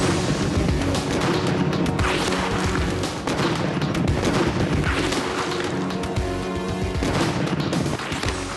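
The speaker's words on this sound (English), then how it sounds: "First up is this Napoleon smoothbore, an original piece from the American Civil War." An original American Civil War Napoleon smoothbore cannon fires, loud booming blasts with crashing echoes rolling across the field in a dense, continuous series.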